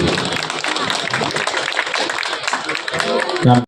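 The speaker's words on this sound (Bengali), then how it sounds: "জোরে একটা করতালি হয়ে যাক রামকৃষ্ণের জন্য" A crowd claps at the inauguration of a rural village fair in Kolmijor, Daspur, a sustained rattle of many hands mixed with someone speaking over a loudspeaker, swelling briefly louder at the very end.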